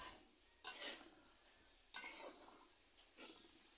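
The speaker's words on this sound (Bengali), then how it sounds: "এবার এই মশলার সাথে ভালো করে আলু করলা মিশিয়ে নেব।" Fried potato and bitter gourd being stirred into masala, three separate scraping strokes of a spatula against the pan over a soft, quiet sizzle.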